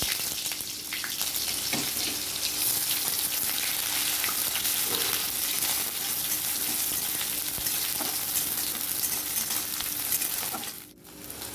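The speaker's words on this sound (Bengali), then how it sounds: "এবার কুচানো পেঁয়াজগুলো দিয়ে দেবো" Chopped onions hit hot oil with cumin in a wok, giving a dense, steady crackling sizzle that fills the whole stretch, close and even, with a short dip near the end.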